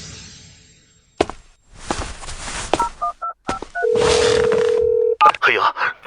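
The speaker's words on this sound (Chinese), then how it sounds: "黑鹰，你怎么想起给我打电话来了" A telephone is dialed with a rapid string of short keypad beeps, followed by a sustained electronic ringing tone on the line, in a quiet indoor setting with a few scattered thumps around it.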